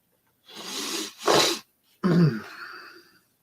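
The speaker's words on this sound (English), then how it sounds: "I gotta sneeze" A single person sneezes loudly and close up, with a sharp intake of breath, the explosive burst, and a trailing vocal exhale; no talking.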